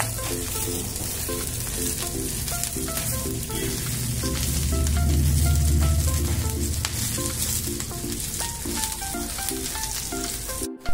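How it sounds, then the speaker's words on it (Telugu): Curry leaves fry in oil in a pan on a low flame, giving a steady close crackling sizzle that swells briefly midway, with faint regular clinks and stirring throughout and no talking. "ఈ మంట సిమ్లో పెట్టుకుని వేయించుకోవాలి ఇవన్నీ."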